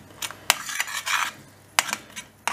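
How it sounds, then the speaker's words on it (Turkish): A utensil stirs cheesy eggs in a pan with a handful of sharp metallic clinks and scrapes among a soft frying hiss, close by and with no voices. "Bakın arkadaşlar güzel karıştırıyorum"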